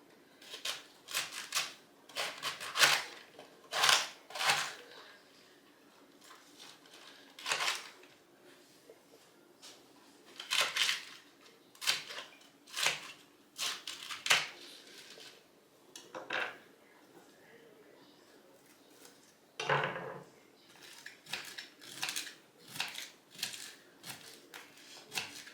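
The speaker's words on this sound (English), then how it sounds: "we're just gonna chop this up" Food is chopped in quick clusters of sharp knife strikes on a board, close and fairly quiet, with short pauses between bursts and one longer scraping sweep partway through.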